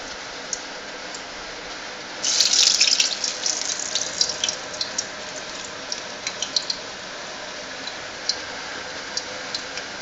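Water runs steadily from a kitchen tap, with a brief louder splashing burst and scattered drips and ticks, fairly faint and with no talk.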